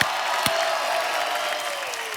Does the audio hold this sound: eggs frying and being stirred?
no